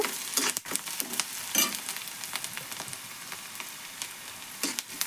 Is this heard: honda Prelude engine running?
no